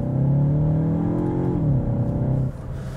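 A Cupra Terramar's artificial sporty engine sound in Cupra mode, a droning tonal hum that dips in pitch midway, then settles quieter.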